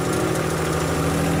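A subcompact tractor engine idles steadily while warming up in cold weather during snow removal, a close, continuous low hum with a faint rhythmic knock and vibration and no talking.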